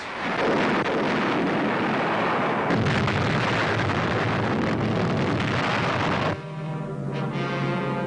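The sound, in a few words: American mortar and tank fire on San Pietro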